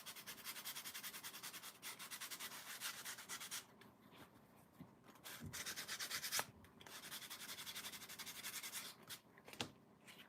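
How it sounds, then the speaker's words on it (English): Close, quiet rhythmic scrubbing of a sanding sponge on a paper clay doll, in repeated strokes with brief pauses between bursts. "the sanding sponge"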